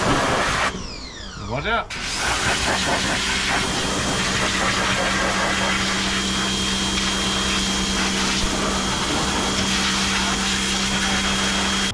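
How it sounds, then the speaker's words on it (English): A new pressure washer runs steadily nearby with a loud, constant rushing hiss and motor drone that continues throughout; a man briefly calls out early on. "His new pressure washer, by the way."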